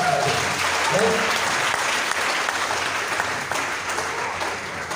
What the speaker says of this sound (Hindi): हम सब अपने लिए जोरदार ताली बजा सकते हैं।